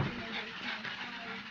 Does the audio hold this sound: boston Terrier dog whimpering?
yes